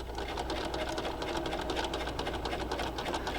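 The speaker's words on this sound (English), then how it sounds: "sewing the bottom edge of the garment to the bottom edge of the garment lining" A sewing machine runs steadily and close, stitching the bottom edge of a garment to the bottom edge of its lining, with a continuous rapid needle rhythm and no talk.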